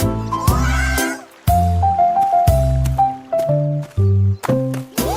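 A cat meowing in a children's song, with repeated short tonal cries and sung phrases in a rhythmic, stop-start pattern, loud and close.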